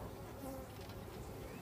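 Honeybees being removed from inside a BBQ grill buzz in a steady, low, continuous drone, faint and even throughout, with no talking.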